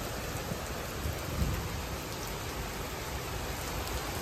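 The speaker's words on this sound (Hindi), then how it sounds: "तगड़ी बारिश हो गई।" Heavy rain pours down in a dense, steady hiss that fills the whole stretch without a break, with a low rumble underneath and no voices.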